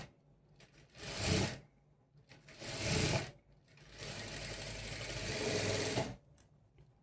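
Sewing machine stitching blouse fabric in three bursts: two short runs, then a longer steady whirring run, each stopping cleanly, heard close with no talk.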